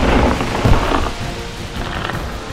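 Thunderstorm sound effect in a children's toy play scene: steady rain hisses throughout with low rumbling thunder swelling near the start, fairly loud and continuous with no voices.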